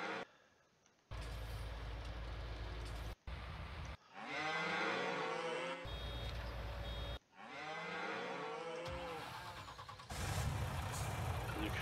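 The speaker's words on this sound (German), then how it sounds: "Die Kühe machen einen Lärm, du." Cows lowing repeatedly in Farming Simulator 19 on a North Frisian marsh farm, long drawn-out moos coming one after another over a steady engine-like rumble, loud and close.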